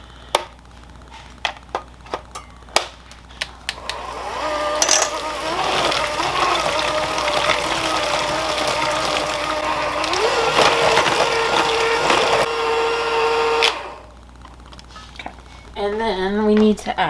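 A small hand mixer beats pumpkin cupcake batter, a steady whirring motor hum with a shifting pitch that runs for about nine seconds after some tapping, with brief speech at the end.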